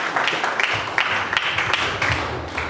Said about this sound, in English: let us welcome with a thunderous round of applause